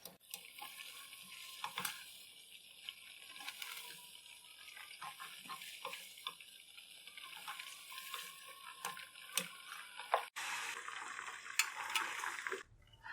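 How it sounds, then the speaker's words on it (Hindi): Chicken pieces lightly frying in a pan, a faint crackling sizzle with irregular clicks and scrapes of stirring, quiet and close, shifting to a brighter hiss near the end. "चिकन को हम हल्का सा फ्राई करेंगे, गलाएंगे नहीं।"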